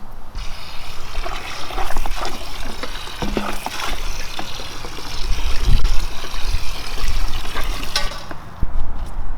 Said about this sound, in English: filling this up with water so of course I can pan in there